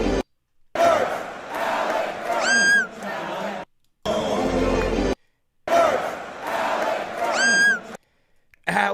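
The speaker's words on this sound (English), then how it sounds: "the Garden crowd was screaming for Alec Burks" Madison Square Garden basketball crowd at a Knicks playoff Game 7 screaming and chanting, heard as a loud, roaring crowd in repeated bursts separated by short silences, with high shrill screams rising above the roar.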